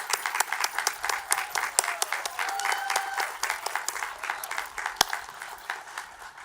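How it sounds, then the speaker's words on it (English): Enthusiastic audience applause at a 2021 honorary degree and retired faculty ceremony, a dense steady round of many hands clapping with a few louder individual claps standing out. "Can you all please join me in another round of applause for our wonderful honorary degree recipients?"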